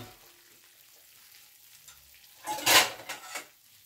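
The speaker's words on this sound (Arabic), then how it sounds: "همسكه بقى كده اقلبه واديله تشويحه حلوه كده على النار" Bread toasting in a pan over a stove flame gives a soft, steady sizzle that swells into a louder burst of frying and pan scraping as the pieces are flipped, then settles again.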